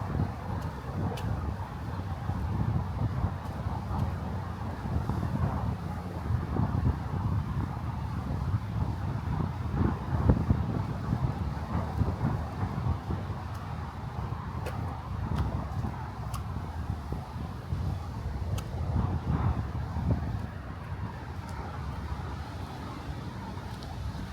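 Breezy wind gusts buffet the microphone on a Brooklyn street, a steady rough rush that swells in places, with faint passing traffic underneath.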